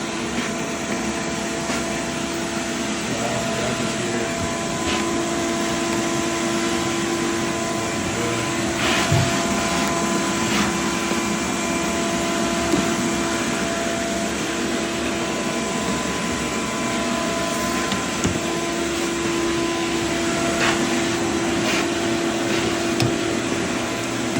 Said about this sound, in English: I just want to show you a little bit of the vacuum process here that we're using